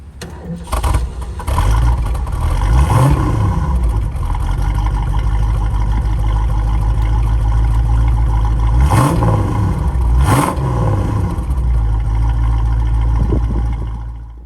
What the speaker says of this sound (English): Let's go ahead and start this car up and let you hear it.